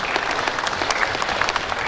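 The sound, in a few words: audience applause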